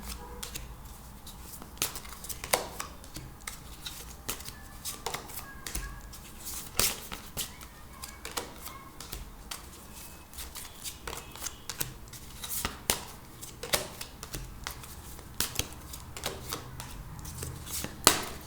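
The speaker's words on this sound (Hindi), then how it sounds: "सारे कार्ड्स पहले निकाल लेंगे" Tarot cards are shuffled and drawn by hand in a steady run of crisp riffles, flicks and soft slaps, close and fairly quiet, with no talk.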